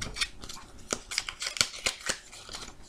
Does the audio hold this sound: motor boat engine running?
no